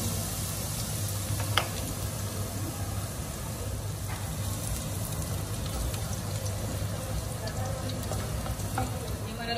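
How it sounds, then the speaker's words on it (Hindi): Finely chopped garlic frying in hot oil for chilli potato, a dense, continuous crackling sizzle held at an even level throughout, close and steady, with a faint click or two. "अब इसमें डालेंगे हम लहसुन ये बारीक काटा हुआ है मैंने इसको अच्छी तरह भुनेंगे"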